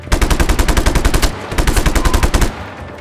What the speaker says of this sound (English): I'm just shooting around.